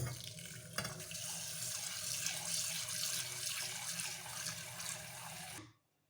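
Tap water runs into a pot of rice being washed, a steady close splashing rush that cuts off abruptly at the end.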